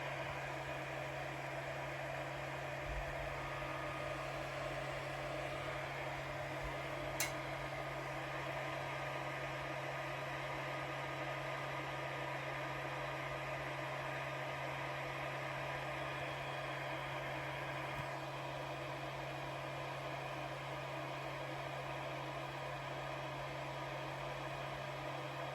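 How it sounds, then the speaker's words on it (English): A 3D printer sits heating its hot end, giving off a steady, faint mechanical hum and fan whir that stays unchanged throughout, with one tiny click and no talk. "Now it's heating up the hot end"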